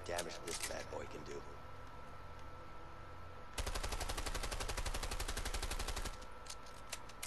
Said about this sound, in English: By shooting at those empty houses, that should do the trick.